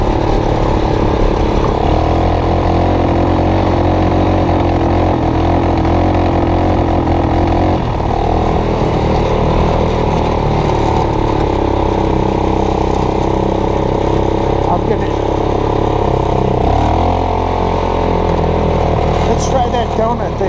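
The engine of a homemade ATV and golf cart hybrid roars steadily up close while the machine spins donuts, with shifts in pitch as the throttle changes and voices talking over the noise.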